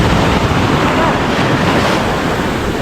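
Strong sea waves crash and roar steadily in a dense, continuous wash of surf, with heavy wind buffeting the microphone throughout.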